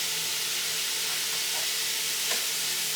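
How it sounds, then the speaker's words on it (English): Sausage frying in a copper skillet while being broken into small pieces, a steady soft sizzle with faint scraping and stirring, quiet and continuous with no talking. "So what Aubrey's doing is she's breaking it up. You want it in little pieces"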